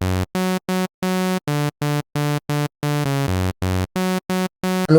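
A house-music bass line melody played on a synth, a run of evenly spaced, buzzy sustained notes with short gaps between them, loud and alone.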